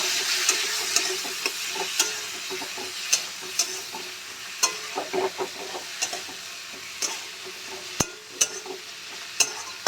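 Spoon stirring coriander powder and Kashmiri red chili powder into a spice masala in a pan for a brinjal dish, a steady close scraping sizzle with repeated sharp clinks of the utensil against the pan, no talk.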